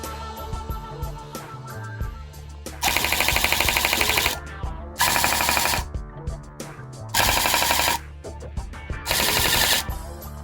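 A screw rattles inside a machine runner in loud bursts of rapid metallic chattering that start and stop several times over a steady mechanical hum, close and with no talk.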